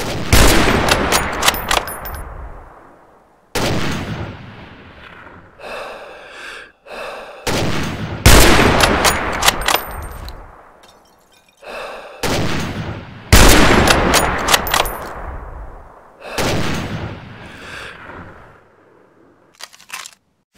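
Several loud volleys of gunshots ring out in separate bursts, each sharp crack followed by a long decaying echo and quieter gaps between them.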